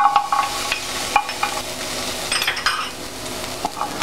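Garlic being dry-roasted and stirred in a pan for Thai roasted chili paste: steady scraping and stirring with a light sizzle, plus occasional clinks of utensil against pan, close and continuous.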